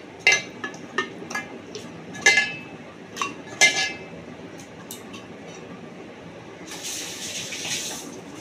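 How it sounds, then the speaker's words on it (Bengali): Mutton pieces dropped into a cooking pot, a series of close metallic clinks and knocks in uneven rhythm, followed by a softer wet rustling wash near the end, with no talking. "তা আমি মাটনটা দিয়ে দিচ্ছি এতে।"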